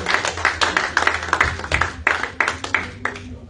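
A church congregation claps hands in praise, a lively run of sharp, slightly uneven claps from many people in a room, close and fairly loud for a few seconds.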